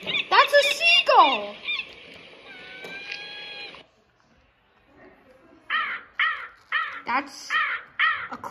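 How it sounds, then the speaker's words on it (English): A crow gives a rhythmic series of harsh, repeated caws, close and loud, after a stretch of other bird-like calls and a brief quiet gap. "That's a crow sound."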